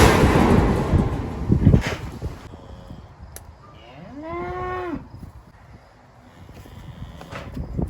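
Cattle in a working pen during hormone shots, with one clear, drawn-out moo nearby after clanging and shuffling noise at the start, then quieter pen sounds.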